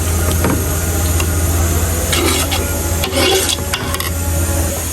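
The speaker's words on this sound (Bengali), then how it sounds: "এখানে মশলাটা ঢেলে দিয়েছি তেলের মধ্যে আমি ভালো করে মশলা কষাই নেব" Spice paste frying in hot oil as it is stirred for a turmeric ceremony meal: a steady broad sizzle with scraping stirs and a low hum underneath, close and fairly loud, no talk.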